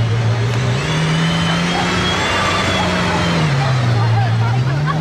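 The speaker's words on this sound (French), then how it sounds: "Alonso, le pilote de F1 en Valkyrie." Aston Martin Valkyrie hypercar driving through the streets of Monaco near the casino, a loud, close engine tone rising and falling in pitch as it moves, with faint voices in the background.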